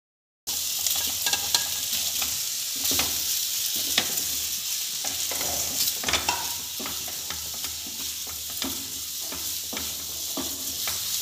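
A spicy masala pitha mixture hisses in a hot pan while a spoon stirs it with irregular scrapes and taps, a steady close sizzle throughout with no voices.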